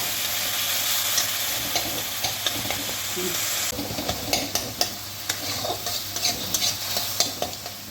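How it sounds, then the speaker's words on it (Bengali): Boiled tomato sizzles in a cumin seed tempering in a pan, steady frying hiss joined midway by repeated close scraping strokes of a spatula stirring it. "জিরে ফোড়ন দিয়ে আর এই সিদ্ধ করা টমেটোটা দিয়ে দিলাম"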